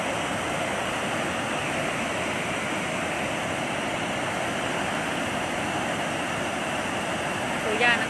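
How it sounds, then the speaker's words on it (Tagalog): Water gushing hard out of the Magat Dam spillway during a typhoon, a constant, dense roar heard at close range that holds steady for several seconds with no clear voices above it. "Kung makita nyo, ang bilis ng labas ng tubig lang."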